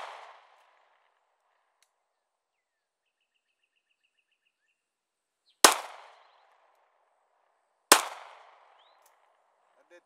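Three sharp gunshots fired at a target, each one loud and isolated, separated by seconds of near silence.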